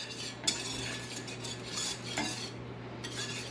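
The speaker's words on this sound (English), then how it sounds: "I like to whisk as I do this because it makes sure that you're not getting any lumps." A whisk stirs boiling liquid in a pot on the stove, part of a Thanksgiving dinner, giving a steady close scraping and swishing against the metal with a low constant hum beneath and a few sharper clinks.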